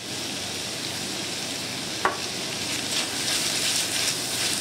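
Garlic and tomato paste fry in a pan for ratatouille, a close, even sizzling hiss with the scrape of stirring and one sharp clack of a utensil partway through.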